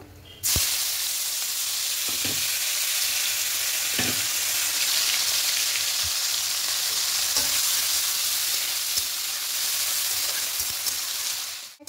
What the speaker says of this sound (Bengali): এবার এই তেলের মধ্যে টমেটো আর পেঁয়াজ কুচিটা দিয়ে দেব।